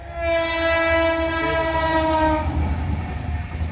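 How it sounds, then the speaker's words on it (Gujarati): A train sounds a long, loud horn blast as it approaches a level crossing near the Bharuch bypass, followed by the rumble of rolling wagons close by. "આ છે ને આઠમી ટ્રેન આવે છે અત્યારે આવે છે ને ટ્રેન"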